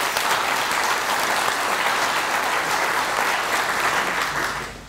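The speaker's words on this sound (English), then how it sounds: "I would also like us to just give a round of applause to Mark Burgess" Thick, continuous applause rises from a conference audience at an infrastructure-as-code talk, given in honor of Mark Burgess. The sound is a full, even wash of many hands, holding steady for several seconds before tapering off at the end.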